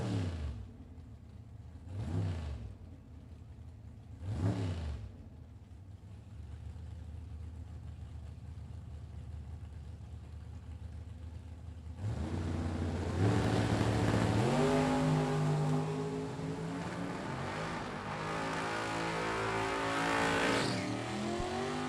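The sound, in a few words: drag race between a Daytona and an Oldsmobile 442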